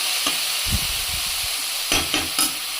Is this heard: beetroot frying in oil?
yes